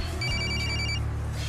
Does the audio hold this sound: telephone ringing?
yes